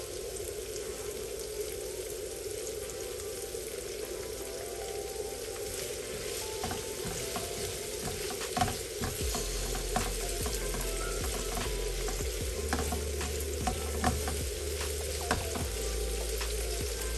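Small onions frying with salt in a hot pan of oil make a steady, even sizzle throughout, with occasional clicks and soft knocks of stirring toward the end.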